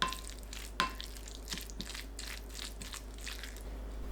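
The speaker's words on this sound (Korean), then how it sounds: "참치에 고운 소금 2꼬집, 후추 2꼬집, 마요네즈 2큰술 넣고 섞어줍니다" Canned tuna with fine salt, pepper and mayonnaise being mashed and stirred in a bowl, a soft repeated squelching and scraping close up, with no talking.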